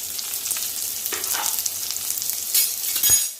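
Onions and curry leaves frying in hot oil for hotel-style sambar, a steady close crackling sizzle with brief bursts of louder spitting and a light clink near the end.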